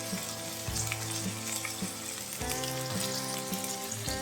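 Chopped tomato sautés in a hot pan for a prawn roast, giving a steady close sizzle and crackle with soft periodic stirring scrapes, no voices.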